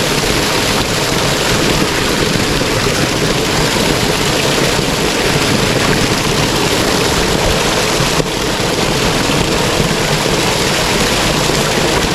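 A farm tubewell in a village field pumps cold water, producing a loud, steady rushing roar that runs unbroken from start to end, with no voices.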